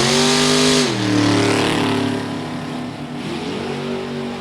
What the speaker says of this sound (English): Jacob Elrod, Chevrolet Corvette, 1992 model year with a 555 cubic inch Chevrolet power plant.